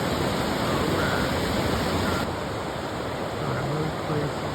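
River water rushing steadily around a rock mid-stream on a rainy outing, a broad continuous wash close by that dips slightly partway through, with faint speech beneath.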